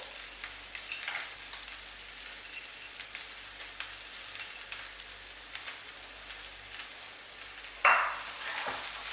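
Coriander leaves, fried cashews, paneer and onion mixed in a pot for vegetable dum pulao: a soft continuous sizzle and rustle of stirring, close, with a sharper spoon scrape near the end and no talk.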